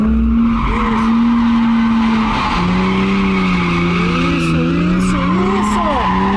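A car spins doughnuts with long, loud tire squeals and skidding under a revving engine, close by, while people talk over it.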